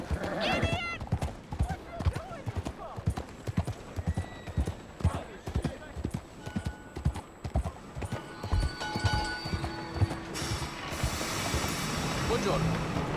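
A horse in the video game Red Dead Redemption 2 trots steadily, its hooves clopping in a regular rhythm close up, with a whinny at the start, game sounds alongside and occasional speech.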